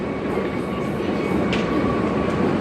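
Bangkok underground metro train running, a steady dense rumble with hiss and a faint high whine, continuous and fairly loud throughout, with no talk.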